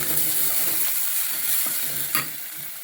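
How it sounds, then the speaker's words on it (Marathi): Browned onion and ginger-garlic paste sizzle in a hot pan while being stirred for a Kokani-style cashew curry, a steady frying hiss with a few scraping clicks of the spoon, close by and without talk. "कांदो थोडं ब्राऊन झाल्यानंतर आला लसूण पेस्ट टाकून घ्यायची. परत मिक्सअप करायचा"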